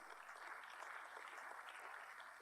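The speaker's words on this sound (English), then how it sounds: "Let's give them a round of applause." A conference audience applauds the volunteers who helped organize an engineering event, a steady even wash of many hands clapping at moderate distance that holds for the whole moment without breaks.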